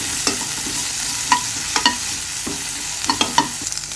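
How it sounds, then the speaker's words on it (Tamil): Onion, ginger and garlic are stirred and sautéed in coconut oil in a pan for a cabbage dish, with a steady sizzle and scattered scraping clicks from the utensil. "இதுவும் பச்சை வாசனை போகிற அளவு நல்லா வதக்கி விடுங்க."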